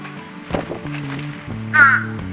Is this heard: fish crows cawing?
yes